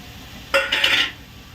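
Onion and tomato paste being stirred in a pan for Ratlami sev curry, a brief burst of scraping and clinking of a spoon against the metal pan lasting about half a second, close and moderately loud.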